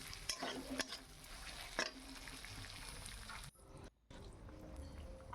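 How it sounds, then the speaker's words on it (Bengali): Egg curry cooks in a pan on a gas stove with a close, continuous sizzle, a few sharp stirring clinks, and a brief dip near the end before the frying resumes; no talking. "গ্যাসে ডিমটা রান্না করছি"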